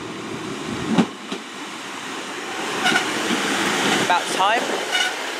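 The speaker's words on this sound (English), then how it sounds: "coming out is the 1103 Great Western Railway service to Weymouth from Gloucester." A Great Western Railway Class 159 diesel unit pulls out of Castle Cary station on a Gloucester to Weymouth service, giving a steady broad rumble and hiss with a few squeals and clunks, while a voice speaks briefly.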